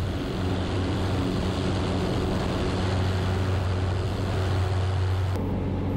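A light aircraft with a UL Power 350iS engine climbs out at full power, a loud, steady propeller-and-engine roar filling the cabin without any speech.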